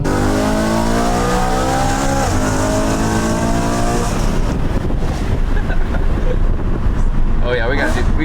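A BMW E92 M3 accelerates hard up close, its engine note rising in stepped harmonics for about four seconds before giving way to rushing wind and road roar, with people talking over it.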